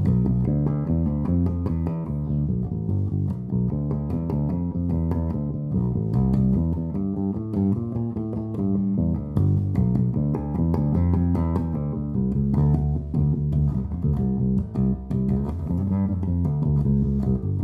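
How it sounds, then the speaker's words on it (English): Gibson Thunderbird-style bass guitar played through a Hartke LH1000 amp, a continuous run of deep, woody bass notes with a busy rhythmic line at steady volume and no talking. "Let's give a listen to what the Hartke LH1000 is going to do with this puppy."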